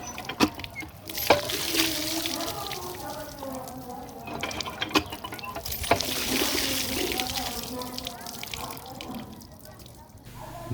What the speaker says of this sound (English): now rinse it thoroughly with clean water